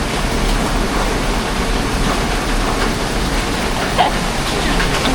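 Heavy rain pours down in a steady, loud, dense hiss that holds evenly throughout, with no pauses and no voices.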